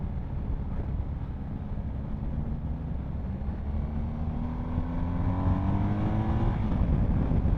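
A 2024 BMW R 1250 GS Adventure motorcycle engine pulls hard in second gear, its droning pitch climbing steadily beneath heavy, constant wind rush.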